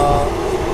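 The Krishna Express, running from Tirupati to Adilabad, gives a steady, close rumble with a faint high tonal whine over it, heard from on board and carrying on without a break.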